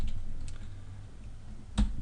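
A few sparse key presses on a computer keyboard, a soft tap early and a sharper click near the end, over low steady room hum.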